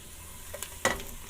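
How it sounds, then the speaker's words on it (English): Garlic dropped into a hot pan for BBQ jackfruit tacos gives a short, sharp sizzle burst over a faint steady frying hiss, with no talk. "now I'm going to add the garlic"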